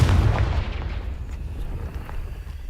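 A Confringo blasting spell bursts with a deep, loud boom in the Hogwarts Legacy video game, followed by a rumbling decay and a few faint distant pops, with no talk.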